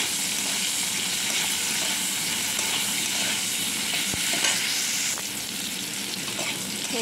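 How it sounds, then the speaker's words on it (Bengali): Bitter gourd pieces fry with turmeric in hot oil, producing a continuous close sizzle with occasional stirring clinks, and no voices. "উচ্ছেগুলো একটু লাল লাল করে ভেজে নেব।"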